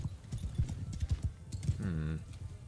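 Cavalry horses in the medieval battle game Bannerlord gallop with a rapid, rhythmic clatter of hooves, followed near the end by a whinny, while someone talks over the sound.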